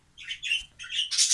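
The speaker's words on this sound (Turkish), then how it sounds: "Abi çok tatlı bir kuş ya." A pet bird in a cage gives a few short, bright squawking calls in quick bursts, close to the microphone, the last one louder and harsher, with no talking.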